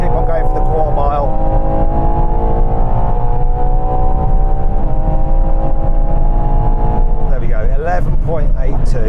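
A Ferrari Purosangue V12 SUV, 725 horsepower, accelerates hard on a quarter-mile run, its engine note climbing loud and steady through the gears before upshifts, with someone speaking briefly over it.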